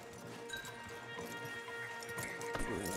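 Stallions' hooves clip-clop steadily as horses are led along in Red Dead Redemption 2, the muffled beats sitting among a busy game soundscape with a faint voice underneath.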